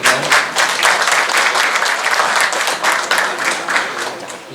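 An audience at a ceremony opening a community nutrition service gives the mayor of Malang steady applause, a dense, even patter of many hands that holds for several seconds before starting to taper.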